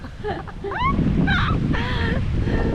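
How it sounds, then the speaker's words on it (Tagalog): Strong, steady wind buffets the microphone at a hot beach on St. Simons Island, Georgia, with faint seabird calls and surf rumbling underneath. "It's so hot, but it's windy and it's so cold."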